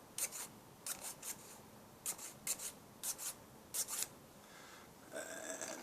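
A file cleaning up a hole: short, faint, raspy strokes in small rhythmic groups of two or three, close by and quiet, then a softer continuous scrape at the end.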